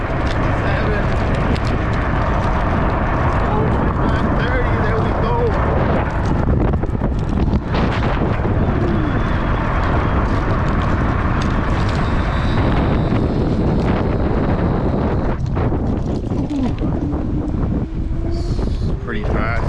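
A Fat Bear Cub electric scooter ridden fast down a road with one hand, loud wind rush buffeting the microphone throughout, a steady motor and road roar beneath, with a rider talking over it.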